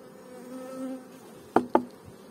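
Honeybees buzz around beehive frames, a low steady hum close by, with two sharp knocks from the wooden frames near the end and no talking.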